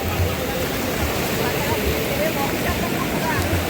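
Loud, continuous rush of the flooded Ambika River, a dense roar of fast-flowing water close by with some wind buffeting and no clear voices.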